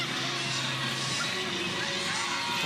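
Crowd noise at Hillsboro Ballpark during a pro softball game, a steady, fairly loud murmur with scattered cheers and children's shouts across the stands, no clear peak.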